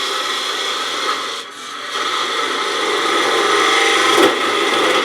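A woodturning gouge cuts into spinning wood on a lathe, making shavings, with a loud, continuous rough scraping and rasping whir and a brief dip partway through.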